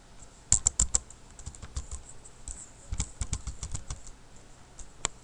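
Computer keyboard typing HTML code: bursts of quick, close key clicks with short pauses between, clear and fairly quiet, with no talking.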